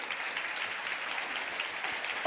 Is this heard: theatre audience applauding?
yes